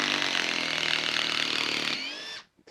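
A Makita XDT16Z cordless impact driver runs continuously at a loud, close, steady whine, then winds down and cuts out near the end.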